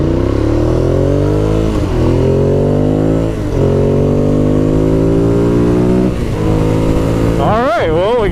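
A 2016 Ducati Monster 821 motorcycle engine drones loudly and steadily while riding, its pitch rising through several gear pulls with brief dips at each shift, then revving sharply near the end.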